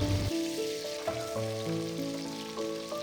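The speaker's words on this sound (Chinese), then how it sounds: "倒入小葱段20克，生姜片15克，继续用中火炒香" Scallion segments and ginger slices stir-fry in a wok over medium heat, giving a steady soft sizzle with a sustained melodic tone running over it.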